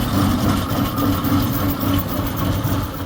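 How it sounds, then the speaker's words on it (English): Old stationary engine with a big exposed crank and giant flywheel running at an outdoor steam show, a loud, steady low throbbing chug with a rhythmic mechanical pulse. "Big exposed crank, giant flywheel, just oily goodness."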